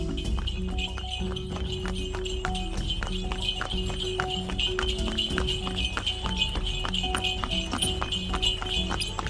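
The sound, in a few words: horse-drawn tonga cart clip-clopping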